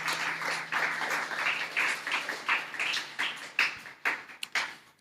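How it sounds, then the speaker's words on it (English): An audience at a press briefing for a Nevis primary schools' football tournament applauds the school teams, a dense burst of clapping that thins into scattered claps and fades over a few seconds, with no voices on top. "Let's give them a round of applause."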